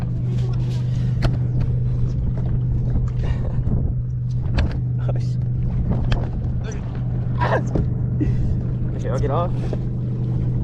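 Boat motor on a lake, a steady low outboard drone running throughout under wind buffeting and water noise, with people talking close by over it.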